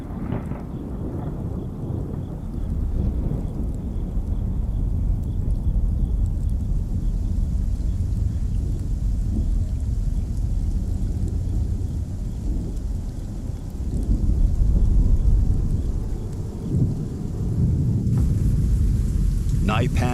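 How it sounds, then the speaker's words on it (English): A thunderstorm breaks over the desert, with heavy, continuous rain and deep rolling thunder that swells midway, loud and enveloping throughout. "Storm clouds gather once again."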